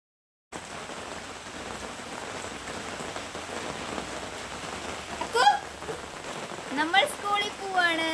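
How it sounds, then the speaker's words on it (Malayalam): Heavy rain falling outside, a steady, dense hiss of drops on surfaces running the whole time, with brief faint voices breaking in near the end. "അപ്പോൾ പുറത്ത് നല്ല മഴയാണ്"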